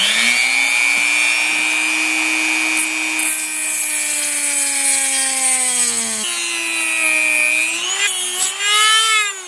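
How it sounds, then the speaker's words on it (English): A saw rasps through a thick plastic rear axle tube for a Tamiya Hornet RC car, a close, loud, continuous tonal whine that holds steady, then dips and rises in pitch as the cut progresses. "I will cut a bit of this on camera, but it's simply too dangerous to do the entire thing."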